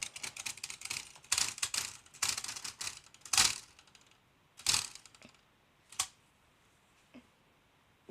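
A rusty manual typewriter being worked by hand, with sharp mechanical clacks and snaps from its carriage and return lever, first in a dense flurry, then as a few spaced, loud, close strikes.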